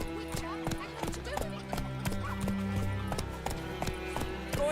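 Roach, Geralt's horse in The Witcher 3: Wild Hunt, gallops with steady rhythmic hoofbeats under music and voices talking throughout.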